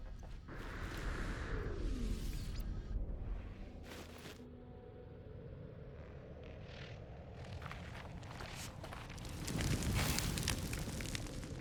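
Flames crackle and roar at a burning base in No Man's Sky, a rushing, whooshing game fire with swells of noise and a louder surge near the end, continuous and close with no talk.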